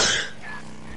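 A single short cough or sneeze bursts out at the start, loud and close, then fades into a quiet background hum with a faint high tone.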